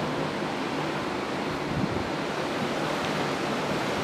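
Ocean waves wash onto the empty beach at Ocean City, Maryland, a steady broadband surf roar mixed with wind buffeting the microphone, continuous and fairly close, with no voices.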